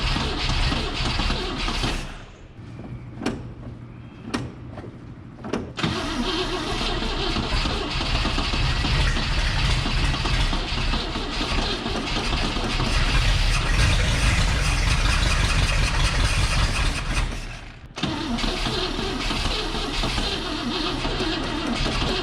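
The engine of a 1960 Cadillac Sedan DeVille with a vacuum leak cranks with a few uneven catches, then settles into a steady, fairly loud run and cuts out near the end before resuming.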